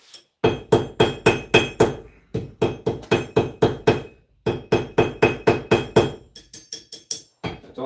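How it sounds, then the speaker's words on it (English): A hammer whacks old copper slag off a crucible after a copper pour. Sharp metallic strikes ring out close and loud in fast rhythmic bursts of about six to eight blows, separated by short pauses. "A couple whacks on the hammer, comes right off."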